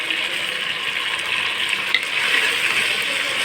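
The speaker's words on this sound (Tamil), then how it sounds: "நம்ம நல்லா இப்படி வதக்கி விடும்பொழுது அந்த ஃப்ளேவரு நல்லா ஒரு சூப்பராக வரும்" Coriander, mint and curry leaves sautéing in a pan for a coconut milk vegetable biryani, giving a steady close broadband sizzle with faint stirring scrapes and no talk.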